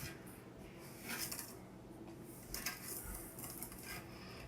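Cookie dough for chocolate chip cookies being mixed in a bowl, giving soft scraping and clinking of a utensil against the bowl in irregular strokes, close and fairly quiet, with no talk.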